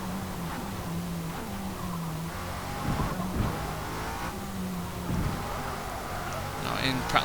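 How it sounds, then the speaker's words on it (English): A 2002 Lotus Esprit V8 turbo races at Le Mans in Forza Motorsport, engine droning steadily and surging under acceleration, with someone talking over it throughout. "It's got a lovely surge to it when we are accelerating. Thanks to those turbochargers."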